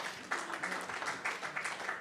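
A church congregation claps for the band at the close of a Sunday service, a steady spread of applause that swells after a brief quiet start and carries on at moderate loudness with no talk over it.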